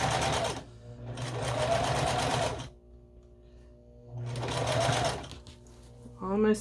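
A sewing machine runs in two loud sustained bursts while stitching a corner seam on a scrappy string quilt, with a quiet pause between them and a brief clatter at the end.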